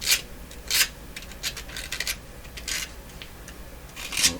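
Pins of a tube socket in a Nordmende Norma Luxus tube radio are scraped clean, giving close, short raspy scratching strokes in an uneven rhythm against a quiet background.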